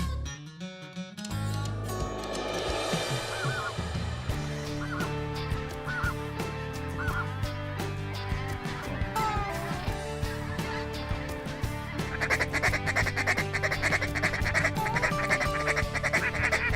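A huge mixed flock of ducks and geese, including snow geese and specklebellies, fills the air with dense overlapping honks and quacks, loud and continuous from near and far, with no voices.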